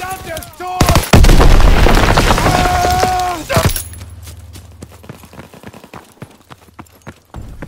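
Gunfire and artillery in the WWII shooter Call of Duty WWII, with a burst of heavy shots and a loud sustained blast, then scattered close cracks and clatter fading into quieter combat noise, with shouted voices in the mix.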